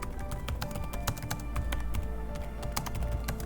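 Steady, quick keystrokes on a computer keyboard, a continuous run of close clicks typed without pause.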